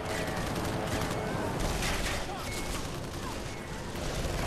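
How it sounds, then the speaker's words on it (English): Dense gunfire from a Call of Juarez: The Cartel shootout, a steady barrage of overlapping shots and booms that holds loud for several seconds, with a voice talking faintly underneath. "Why am I getting shot at?"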